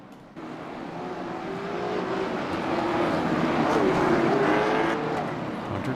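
Late model race cars circle the Richmond short track in a pavement series season finale before the green flag, a steady loud engine roar rising and swelling as the pack passes, with faint commentary underneath.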